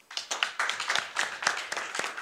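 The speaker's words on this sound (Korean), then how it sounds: "부원장님 큰 박수로 환영해 주시기 바랍니다" A small audience at a Korean forum on quantum computing research applauds to welcome a speaker, with sparse, distinct hand claps in an uneven rhythm, close and fairly clear.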